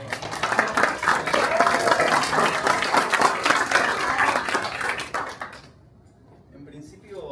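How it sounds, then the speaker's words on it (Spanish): A crowd applauds steadily and loudly for several seconds at a Pulse x IBM talk event, then the clapping fades out into a near-quiet room. "un aplauso para Fran, por favor."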